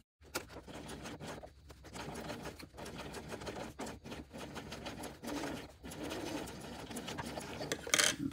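A sewing machine stitches steadily through thick, bulky layers of a tote bag, with a continuous mechanical whir broken by brief pauses and a few changes in speed.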